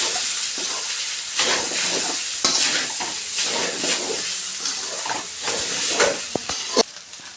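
Seasoned koyitaku rice being stirred in a hot pan, a steady sizzling hiss broken by scraping spatula strokes and a few sharper clanks near the end, close and fairly loud with no voices.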